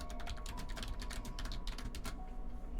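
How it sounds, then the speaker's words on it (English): Rapid, continuous typing on a computer keyboard, a dense run of light close-up key clicks with a steady background hiss and no talking. "I don't know if you guys can hear my typing"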